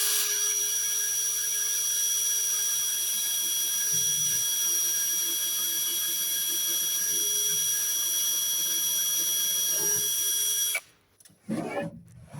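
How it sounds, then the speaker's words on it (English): Drill boring through a wooden fascia board, a steady high-pitched whine held for about ten seconds before stopping abruptly, followed by a few brief knocks. "I'm just going to drill through the spots that I want it to go in."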